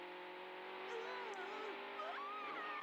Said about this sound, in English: I didn't expect cars to be a thing in Dragon Ball